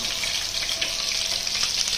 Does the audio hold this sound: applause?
no